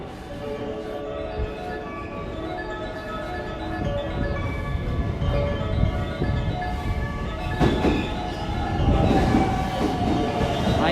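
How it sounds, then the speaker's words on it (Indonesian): A train rumbles at a station platform in Japan, a loud close rolling drone with rising mechanical hum and brake squeal, continuous throughout with no voices. "Nah, ini benar nih. Ini keretanya nih."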